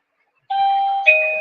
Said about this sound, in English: You heard doorbell.